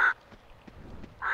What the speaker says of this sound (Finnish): Kauhea korppi, koska yrittää tulla raatelemaan minua.